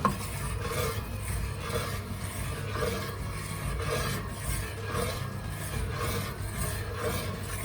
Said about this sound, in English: You just keep stirring it.